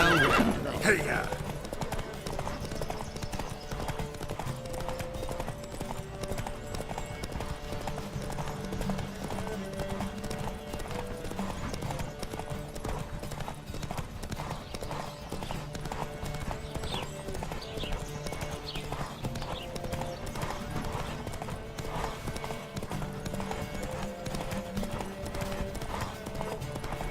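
Rapid hoofbeats of several galloping horses with occasional whinnies in a horse race in The Witcher 3: Wild Hunt, steady and continuous over a music bed, with brief shouting near the start.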